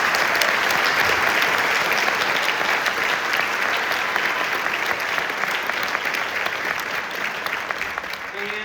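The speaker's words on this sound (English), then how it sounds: "Can we give them a big round of applause?" An audience at an all-district honor band concert in Joplin High School applauds in a dense, sustained wash of clapping that stays loud throughout and eases slightly toward the end.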